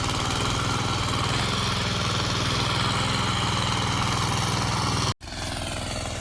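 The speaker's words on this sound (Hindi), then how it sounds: "ट्रैक्टर चलाते हुए, और इसने पूरा खेत खोद दिया है" Tractor engine chugging steadily while ploughing a farm field, a loud close rhythmic diesel putter running without pause, briefly cut near the end before resuming.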